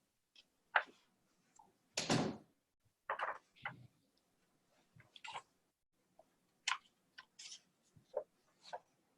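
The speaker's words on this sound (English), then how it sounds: "I'm just closing my door" A door being closed indoors, with a scatter of faint clicks and soft bumps and one fuller thud partway through, all quiet against near silence.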